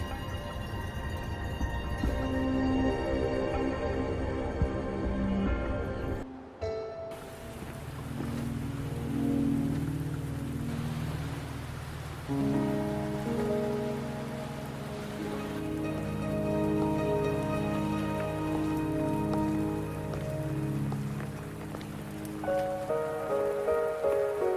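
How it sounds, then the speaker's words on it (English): Steady rain pours throughout a scene in the video game Wuthering Waves, a dense continuous patter with a brief dip partway through and tonal game music layered underneath, no voices. "Are you trapped here by the rain?"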